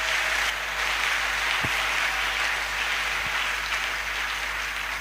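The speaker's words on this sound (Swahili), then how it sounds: "Tumpikie wa milele makofi." A church congregation gives a steady, dense applause that carries through the whole stretch, with many hands clapping at once and no voice rising above it.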